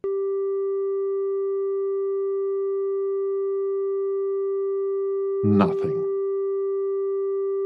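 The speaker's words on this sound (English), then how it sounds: "I activate oscillator 1 and choose the sine wave generator." Pure, steady sine wave from oscillator 1 of the Ommarunn synth, a constant unwavering hum holding for the whole stretch, briefly interrupted by a short burst of speech.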